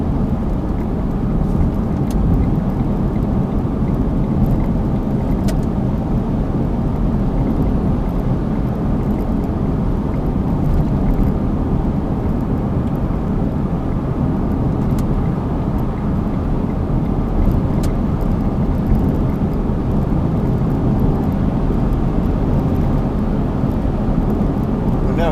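Inside a 2012 Smart Fortwo Coupe Passion mhd cruising at 70 mph near 3,000 rpm, a constant low drone of engine and road noise fills the cabin, steady and unbroken throughout.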